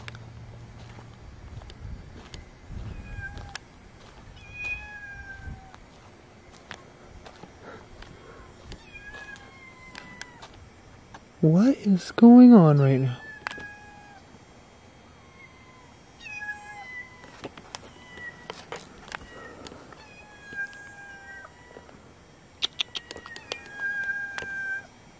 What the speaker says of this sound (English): There's a cat literally under the car.